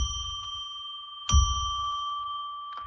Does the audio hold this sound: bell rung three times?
yes